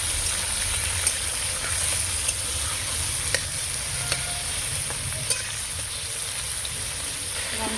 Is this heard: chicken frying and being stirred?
yes